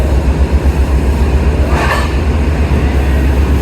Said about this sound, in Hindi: अब कराची एक्सप्रेस आ गई है with most favourite power ZCU306317